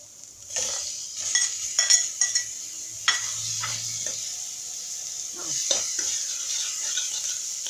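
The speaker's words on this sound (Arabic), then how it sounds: "ننزل بالصدوق كله ياخد تشويحه كده ورا بعض اهو" Cauliflower florets sautéing in a pan with garlic, a soft steady sizzle under a run of scraping stirs and clinks of a utensil against the pan, close and fairly quiet.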